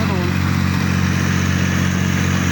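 A large water pump engine runs at a pond dredging site, a loud, steady mechanical drone with a constant low hum and no change in pace throughout.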